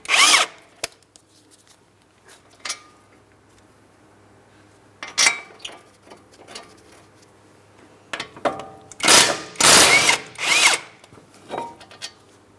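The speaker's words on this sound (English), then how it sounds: "The caliper bracket's held in place with 2 21mm mounting bolts. Go ahead and remove the pair in that bracket." Several short bursts from a power tool, probably an impact wrench, removing the two 21mm caliper bracket mounting bolts on a 2008-2016 Chrysler Town & Country during a front brake job, with a longer loud run near the end and quiet gaps between.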